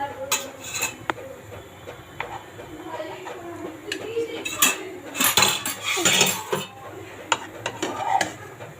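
Cooked rohu fish paturi lifted from the pan with metal utensils gives sharp, irregular clinks and scrapes of cutlery against cookware, close and fairly loud, with some quieter handling sounds between.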